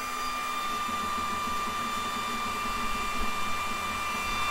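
A Sculpfun S30 Ultra 22W laser engraver works on wood, giving a steady, unbroken mechanical whir with a faint high tonal whine and a low hum throughout, with no talking.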